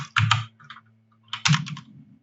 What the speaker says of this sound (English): You just type in a name